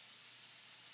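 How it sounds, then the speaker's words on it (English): Preval sprayer misting clear coat onto a car's spot-painted area, a steady, even close hiss without a break. "and now I'm going to apply the clear coat"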